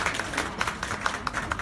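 An audience applauds at a book launch for Piret Tali's "Minu Pärnu", with steady, moderately loud clapping from many hands in a room.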